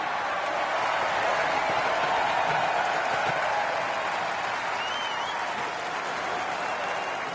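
Golf gallery applause for a putt on the green, a steady broadband roar of clapping from a crowd that holds evenly for the whole stretch, loud and continuous with no talk over it.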